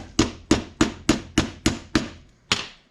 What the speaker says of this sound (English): you're going to take this and pound it down into the countersunk spot till it stops